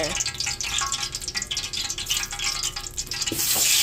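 Butter sizzling and frying in a hot oiled pan for a Filipino mixed vegetable dish, a steady close crackle with stirring, growing louder and brighter near the end.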